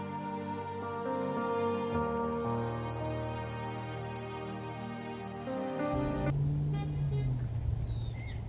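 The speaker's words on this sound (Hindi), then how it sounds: "गाड़ियों के हॉर्न में, सड़क आसपास ही है।" Car horns honking near a road, several sustained toots layered over each other, fairly loud, with traffic noise and a brief voice near the end.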